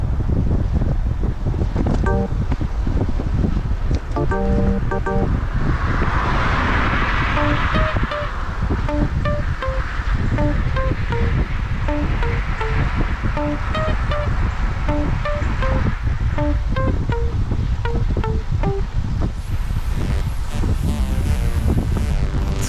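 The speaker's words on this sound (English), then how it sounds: "We're going directly into the east wind here. So the wind is coming from straight in front and the right." A cyclist rides straight into an east headwind, and steady, loud wind roar batters the microphone throughout. Faint mechanical ticking and a few tonal whines sit beneath the constant rush.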